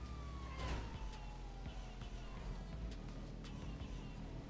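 A police car siren wails in GTA 5 Online, a steady sweeping tone under a busy backdrop of engine rumble, tire noise and scattered knocks from the driving game, moderately loud throughout.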